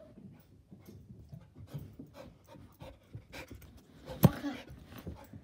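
A dog pants quietly and rhythmically while sniffing around for hidden treats, close to the microphone, with a sharp thump near the end.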